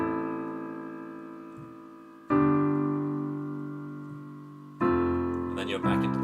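Solo piano plays the closing bars of a song's chorus, three sustained chords struck about two seconds apart, each ringing and decaying, with a brief higher flourish at the end.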